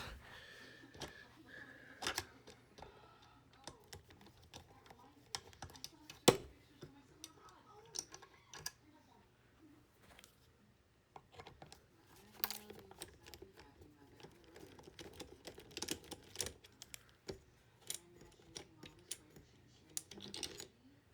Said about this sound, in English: we're gonna take off these two hex screws right in the front